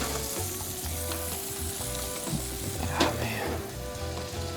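Butter and crab sizzle in a cast iron pan, a steady close frying hiss with a brief louder crackle near the end, while a voice speaks briefly over it.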